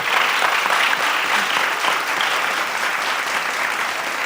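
Loud, sustained applause from an audience at a comic convention event in Martorell, steady dense clapping filling the room throughout with no talk over it.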